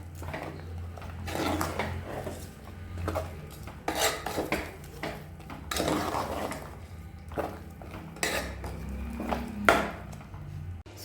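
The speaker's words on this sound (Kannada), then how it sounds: "ಈಗ ಇದನ್ನೆಲ್ಲ ಚೆನ್ನಾಗಿ ತಿರುಗ್ಕೊಂಬಿಡೋಣ." A spoon stirs green chilli chicken seasoned with soy sauce and salt in a pan, making repeated close scrapes and metallic clinks in an irregular rhythm.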